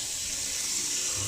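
Tap water runs steadily into a sink while rice is rinsed for brewing a black rice lager, a continuous close hiss of flowing water with no talk.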